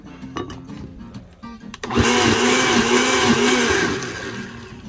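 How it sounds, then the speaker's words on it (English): Blender whirs loudly, processing a half cup of original Sweet Baby Ray's barbecue sauce into an apricot chipotle sauce for ribs; after a quieter lead-in it kicks on abruptly and runs steadily, its motor pitch wavering slightly. "And then we'll get that blended up."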